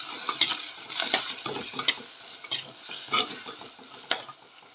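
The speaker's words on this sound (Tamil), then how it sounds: "காரத்துக்கு தக்கன மிளகா பொடி போட்டுக்கோங்க லேசாக எண்ணெயில் ஃப்ரை பண்ணிக்கலாம்" Chili powder fries lightly in hot oil with turmeric for an eggplant curry, a steady close sizzle broken by repeated scraping and clinking of a spoon stirring against the pan.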